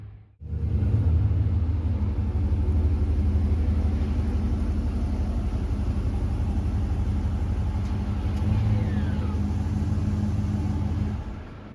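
A 2023 Ram 1500 pickup with a Maxtrac 2-inch rear lowering spring install rumbles outside at low speed, a steady deep engine drone that swells briefly as it rolls on the throttle.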